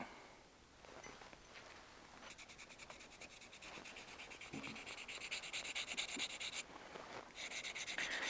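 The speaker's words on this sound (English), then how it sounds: "Just blending my scratches here." A hand file drawn repeatedly across the steel of a rebuilt 1911 pistol to blend out scratches, quiet, close rasping strokes in a steady rhythm, no voices.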